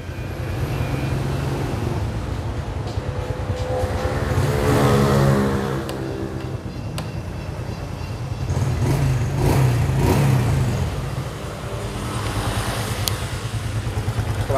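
Idling engine of a Honda Supra X motorcycle imported from Indonesia, a steady low rumble that swells slightly a couple of times, close by and continuous without talk.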